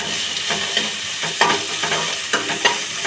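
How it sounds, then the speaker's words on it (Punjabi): Carrot and cauliflower frying with onions in a pan, a steady close sizzle with a few sharper stirring scrapes over three seconds, no talking. "ਤਿੰਨ ਮਿੰਟ ਇਹਨਾਂ ਸਬਜ਼ੀਆਂ ਨੂੰ ਇਹਦੇ ਨਾਲ ਹੀ ਪਕਾ ਲਾਂਗੇ"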